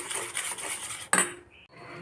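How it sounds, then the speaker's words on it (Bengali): A spoon clinks and scrapes against a bowl while a pinch of baking soda is mixed into batter for fried potol bora, with steady close stirring followed by a sharp clatter and then near quiet. "ভাজার আগে সামান্য 1 চিমটির মতন খাবার সোডা ভালো করে মিক্স করে নেব"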